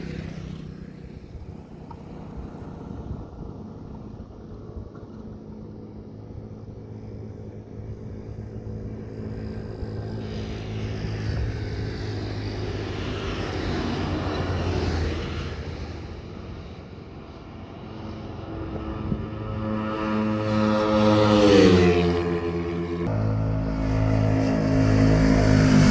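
Two 150cc motorcycles, a Yamaha Sniper 150 and a Suzuki Raider 150 Fi with a 36 mm throttle body and stock ECU, race with engines droning and rising in pitch as they accelerate, swelling louder toward the end.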